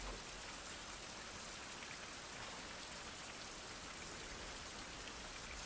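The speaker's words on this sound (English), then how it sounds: "Kind of hard to hear things sneaking up on you in the rain" Steady, dense rainfall in a 16th-century survival game, a continuous even hiss with no breaks and no voices over it.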